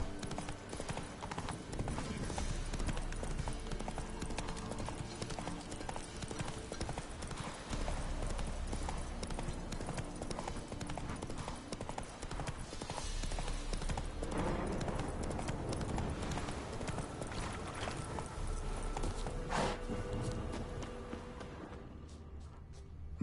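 A horse gallops in The Witcher 3 video game. Steady rapid hoofbeats continue throughout amid game ambience and fade near the end.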